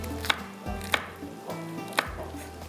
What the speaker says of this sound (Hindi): चले, इसको भी कटिंग करती हूँ।